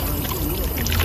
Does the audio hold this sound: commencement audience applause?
no